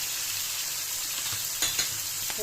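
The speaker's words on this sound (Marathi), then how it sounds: "आता आपण सगळ्या एक एक करून भाज्या टाकणार आहोत" Chopped vegetables for a Maharashtrian Bhogi mixed-vegetable bhaji hit a hot pan, giving a steady close sizzle with a few brief clatters of pieces dropping in; no voices.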